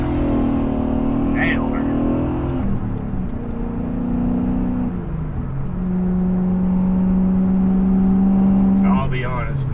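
BMW 540i with a six-speed manual accelerating hard in first, the engine note rising steadily before a brief dip as the shift into second is made, then pulling again. Someone speaks briefly over the loud engine drone.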